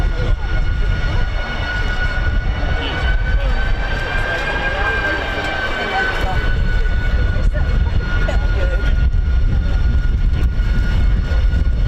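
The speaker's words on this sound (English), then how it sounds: "There's the Harrier." A Harrier jet flying at the RIAT airshow at RAF Fairford, a loud continuous roar with a rising whine and gusting wind noise throughout, filling the whole stretch without letup.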